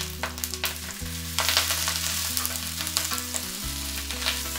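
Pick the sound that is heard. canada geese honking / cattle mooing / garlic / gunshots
garlic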